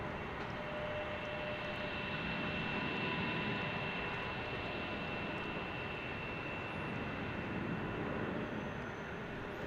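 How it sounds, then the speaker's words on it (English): A Spirit Wings Airbus A320neo taking off from Salt Lake City airport toward Las Vegas, a steady broad jet roar held at a distance and constant throughout, with no voices. "we have Spirit Wings taking off to Las Vegas on an A320neo"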